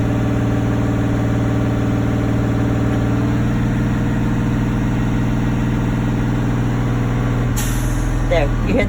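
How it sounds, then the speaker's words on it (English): Bus air brake system idling while the tank builds pressure, then a sharp hissing swish as the governor releases air once full, heard near and loud over the steady engine rumble. "you want it to build up all the way until you hear that swishing sound, and that's the governor releasing"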